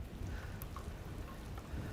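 Steady outdoor rain hiss, a broad even wash of patter with low rumble underneath, continuous throughout with no voices, falling while a whole chicken is prepared for a Camp Chef smoker.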